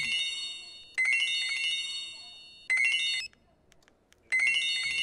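A bright electronic mobile phone ringtone melody plays in three repeated bursts with short gaps, fairly faint and with no voices, in a clinic.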